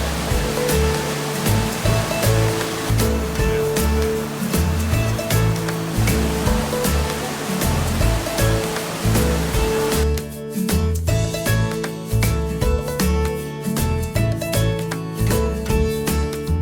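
Glacial meltwater river near Skagway, Alaska, rushing loudly and steadily as a continuous broadband roar of fast-flowing water, close to the microphone, with no talk over it.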